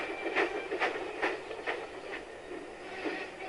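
A toy Thomas the Tank Engine train chugs along its track in a steady run of light clicking puffs, close and fairly quiet, with no voices.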